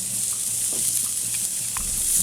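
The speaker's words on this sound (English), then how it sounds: "put the steak right on here and it's going to sizzle up and get nice and hot" A ribeye steak sears on a hot grill, giving off a steady, even sizzle that hisses continuously throughout with only faint clicks beneath it.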